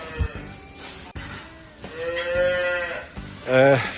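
Jersey-cross cows at a farm during calving season moo, several loud, close lowing calls, with a long moo in the middle and another strong one at the end.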